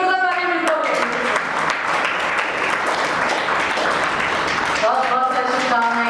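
Loud applause fills the hall at an arts festival gathering, a continuous thick wash of many clapping hands lasting several seconds, with a voice speaking at the start and again at the end.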